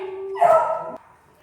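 A miniature pinscher puppy gives a high, whiny tone that rises into one sharp, close yap, then trails off into quiet.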